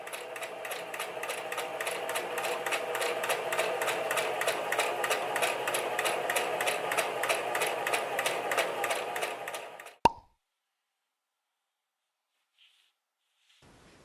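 A sewing machine stitches in a fast, even mechanical rattle for about ten seconds, then stops with a single clunk. Near silence follows, with only faint small sounds.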